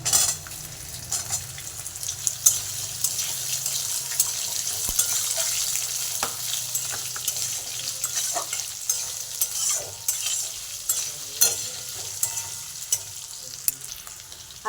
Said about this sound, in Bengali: আলুটা হালকা করে ভেজে নিয়েছি